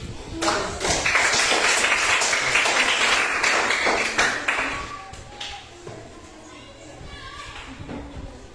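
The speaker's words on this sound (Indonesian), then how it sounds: "barangkali kita tepuk tangan dulu" A burst of clapping from a group fills the first half, then thins out into scattered claps and taps as voices take over.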